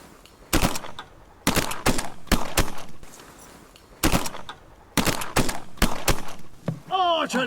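Shotguns boom during a duck hunt over water, several loud sharp blasts in quick volleys with pauses between, and a duck call quacks near the end.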